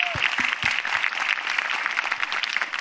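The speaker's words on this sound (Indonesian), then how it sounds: "tepuk tangan buat mereka berdua dong" Audience applause for two comedians at a stand-up comedy show, a brisk even patter of many clapping hands with a few louder claps near the start, steady for under three seconds with no voices.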